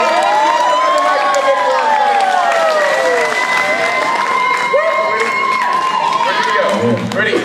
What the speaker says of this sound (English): Let's give a round of applause for Evan.